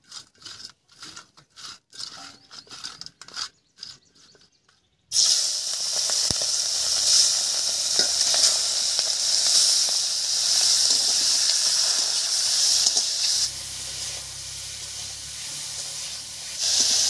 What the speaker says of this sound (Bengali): এবার চিংড়ি মাছের মধ্যে একটু হলুদ লবণ মাখিয়ে এই তেলের মধ্যে ভেজে নেব